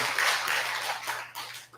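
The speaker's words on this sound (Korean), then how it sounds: "다시 한번 박수 한번 부탁드리겠습니다" Applause from a congregation for a choir's song at a Sunday family Dharma service in a temple hall, a steady wash of clapping from many hands at moderate distance with no voices over it.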